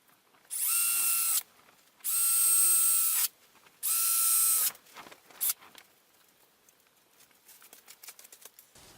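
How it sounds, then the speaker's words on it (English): Power drill boring a few holes through a plastic pipe, three loud sustained high-pitched bursts of about a second each, followed by quieter clicks and handling noises. "Now I need to drill just a few holes in this pipe"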